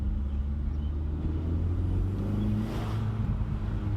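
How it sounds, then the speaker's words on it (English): A stock turbocharged Hyundai Veloster engine pulls hard through second gear, its low droning note climbing steadily, heard from inside at moderate volume with no voices. "the car is stock right now, and here's a second gear pull."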